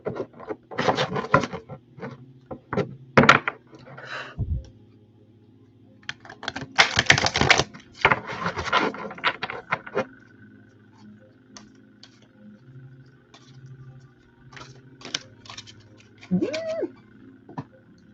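Tarot cards are shuffled in quick riffling bursts and rapid taps, pausing between rounds, with a faint hum in the background.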